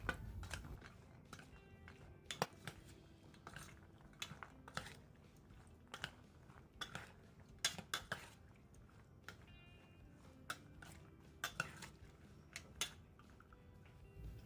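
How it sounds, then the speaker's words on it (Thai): Salad ingredients for a Lao-style pork yam tong, including long beans, are stirred in a bowl, producing soft irregular clicks, taps and wet squishes, close and quiet. "คนส่วนผสมทุกอย่างเข้ากันดีเลยนะคะ"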